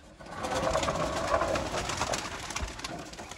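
Teddy pigeons coo close by in soft, rolling murmurs, several overlapping calls over a low background hum.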